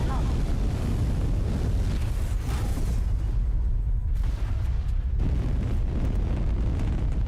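Rocket engines firing at launch in Kerbal Space Program 2, a loud continuous broadband roar with a rumbling low end that holds steady throughout, briefly thinning in the treble midway before surging again.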